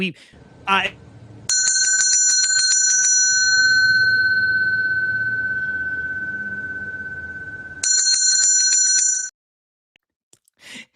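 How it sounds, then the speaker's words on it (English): A bell on a sports talk show rings in two long, bright, sustained bursts, each followed by a fading tone, with brief talk before the ringing. "ring the dang bell, Ibby."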